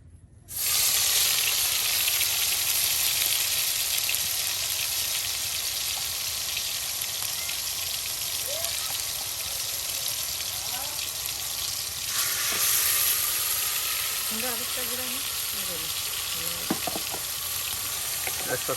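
Shrimp and bottle gourd leaves fry in hot oil in a village kitchen, with a loud continuous sizzle and hiss that runs the whole time and brief bubbling pops near the end.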